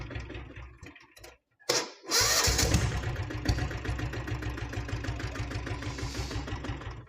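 A restored Royal Enfield diesel Bullet motorcycle is started with the electric starter after a brief silence, catches with a burst, then settles into a loud, close, steady thumping idle.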